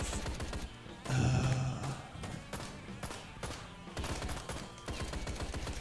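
Bursts of rapid gunfire crackle in the game Ride to Hell: Retribution, steady rattling volleys over game sound, fairly quiet overall.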